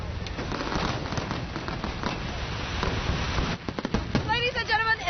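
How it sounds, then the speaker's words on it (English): Fireworks bursting at the close of a Li ethnic festival celebration in southern China, a dense crackling and popping crowd of reports heard from a distance, with sharper separate bangs and some voices near the end. "enjoy the fireworks, because this marks the end of the celebration"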